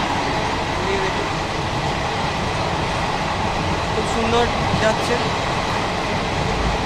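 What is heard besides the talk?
passenger train running, heard on board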